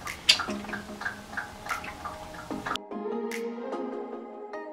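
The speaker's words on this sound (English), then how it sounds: "now we're gonna pour the cornstarch with fresh milk" Cornstarch mixed with fresh milk pours into a sweet corn, coconut milk and condensed milk mixture, giving a soft continuous liquid stream with small drips and splashes, close and alone.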